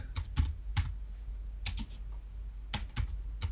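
Typing on a computer keyboard sounds as close, crisp clicks in short bursts of a few keystrokes, separated by brief pauses over a low steady hum.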